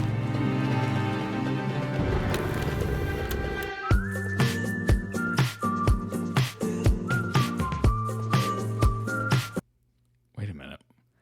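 Whistling in a song: a melodic whistled line over music with a steady clip-clop beat, loud and rhythmic, ending abruptly into near silence with a brief sound afterward.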